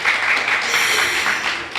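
An audience applauds at a Miss ISNAC 2016 pageant event, a dense, steady wash of clapping for nearly two seconds with a faint voice underneath.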